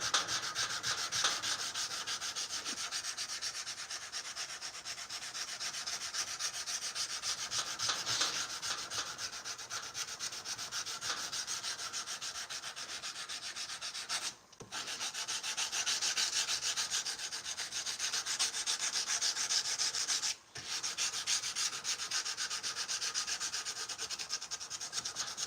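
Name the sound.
hand sanding a knife blade with rubber backing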